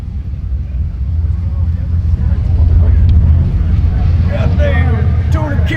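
A slow car with an LSX engine and full interior runs at LS Fest, its low, steady engine rumble swelling slightly and holding loud and near, with a voice talking over it.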